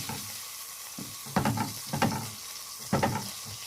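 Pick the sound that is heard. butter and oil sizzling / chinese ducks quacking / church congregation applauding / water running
butter and oil sizzling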